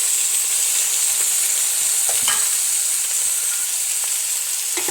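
Tomato and curry leaves fry in a masala base for chicken gravy, giving a steady, loud, even sizzle with a few faint scrapes of stirring.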